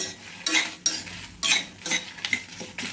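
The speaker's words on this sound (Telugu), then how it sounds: "దీంట్లోనే కారాన్ని సరిపడా ఎండుమిరపకాయలు ఇవన్నీ కూడా మంచిగా వేగాలి" Dried red chilies frying in a pan as a utensil scrapes and stirs them, making repeated clinking, scraping strokes in an irregular rhythm over a faint background sizzle.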